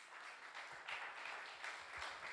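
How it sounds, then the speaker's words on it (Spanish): A fairly distant audience at a TED-style talk claps steadily for a speaker, the applause soft and continuous with scattered individual claps standing out. "Un aplauso para Zairi"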